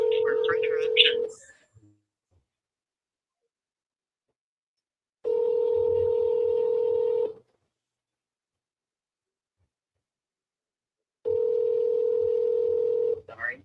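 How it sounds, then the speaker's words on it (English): A phone line plays a voicemail tone during a call. A steady electronic tone of about two seconds repeats after long silent gaps, following a brief automated voice at the start. "At the tone, Please record your message."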